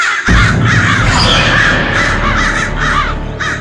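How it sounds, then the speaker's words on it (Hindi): Crows caw harshly in a loud, repeated series of rasping calls over a steady dense background, close and continuous throughout. "बेसुरे कौवे, भागो चलो।"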